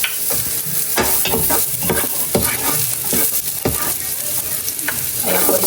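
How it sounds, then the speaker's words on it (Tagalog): Garlic, onion and ginger sauté in a little hot oil with a close, lively sizzle, stirred continuously with a run of rhythmic scraping strokes throughout. "nagpainit na po si Nini ng mantika at magigisa na po siya ng bawang,"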